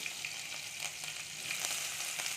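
Green chilies and a pinch of asafoetida sizzle steadily in hot oil, a continuous crackling fry with faint scattered pops, heard alone without voices.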